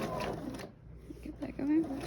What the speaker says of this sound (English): I'm going to start sewing, and my hem is just a fold